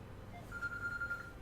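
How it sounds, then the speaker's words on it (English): A phone alarm rings faintly, a thin steady electronic tone holding for under a second over low background hum. "my phone is telling me that it's time to wake up"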